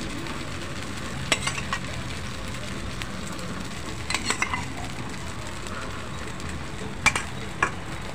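Fasting bhajani thalipeeth frying in a little oil on a pan, giving a steady soft sizzle with a few brief scraping clicks from turning or spatula contact.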